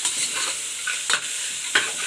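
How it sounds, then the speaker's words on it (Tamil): Mixed vegetables with green peas for barnyard millet vegetable rice sizzle steadily in a hot pan while a spoon stirs them, with two sharp scrapes against the pan standing out. It is close and loud, with no speech. "இதையும் சேர்த்து நல்லா கிளறி எடுத்துக்குங்க."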